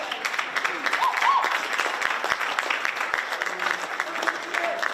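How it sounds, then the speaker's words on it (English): An audience claps steadily for show choir seniors, a dense even patter of many hands mixed with crowd noise and voices talking over it. "If we could get one more claps for our awesome seniors here"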